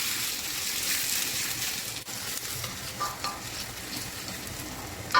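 Long green chili sautéing in a pan with ginger and garlic, a steady close sizzle and fry with occasional stirring scrapes, no one talking.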